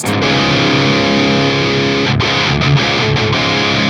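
A heavily distorted electric guitar played through a Synergy Syn20IR with an ENGL Savage preamp module chugs dense, loud, tight high-gain riffs with brief palm-muted stops.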